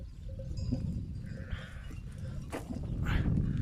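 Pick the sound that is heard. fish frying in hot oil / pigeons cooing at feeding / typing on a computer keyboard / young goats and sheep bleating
young goats and sheep bleating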